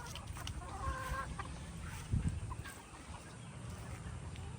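Breeding gamefowl on a farm cluck quietly against a low outdoor background hum, with a short burst of clucking and a soft bump partway through.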